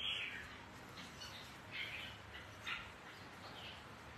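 Songbirds at an outdoor bird show give faint, scattered chirps and squawks over a steady crowd murmur.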